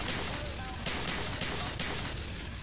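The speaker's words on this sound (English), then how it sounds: "They're literally shooting up civilians." Gunfire from the Vietnam campaign of the video game Black Ops, dense and continuous, with repeated sharp bursts roughly every half second over a loud, busy battle mix.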